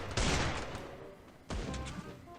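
Two sharp bursts of gunfire from the Free Fire battle-royale game, the first near 0.2 s and the second at 1.5 s, each loud and close with a decaying tail and no voices over them.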